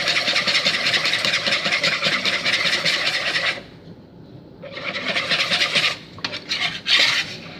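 Crêpe batter with flour being whisked in a bowl, a continuous fast scraping whir that pauses briefly midway, then resumes in shorter bursts with a few clinks, close and alone.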